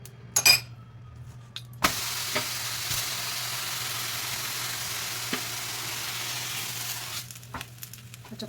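Thalipeeth made from tender hurda sorghum sizzles in oil on a hot griddle, a steady close frying hiss lasting about five seconds after a few sharp clicks at the start.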